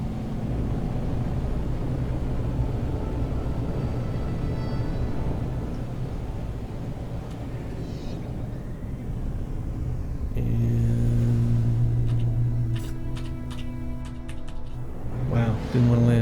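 A spaceship in the No Man's Sky video game flies and sets down, a steady heavy engine rumble that swells and shifts to a stronger low hum near the end, with someone talking over it.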